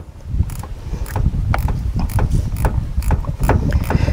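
Ratchet tightening a battery cable terminal on a Silverado, with rapid close clicking pawl strokes in steady repeated bursts over low background noise.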